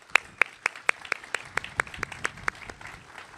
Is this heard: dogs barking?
no